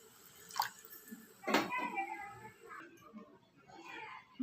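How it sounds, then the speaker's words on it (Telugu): Water poured into a pan of stuffed brinjal masala curry, a sharp splash and sizzle bursting up near the middle, then settling into a softer bubbling hiss. "వాటర్ యాడ్ చేసుకుంటున్నాను"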